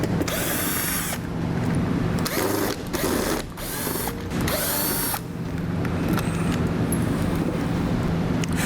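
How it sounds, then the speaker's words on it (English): A power drill whirs steadily with brief pauses as it backs out four Phillips screws from a vehicle's taillights, loud and close, with little else audible. "We'll just go ahead and back out those 4 screws."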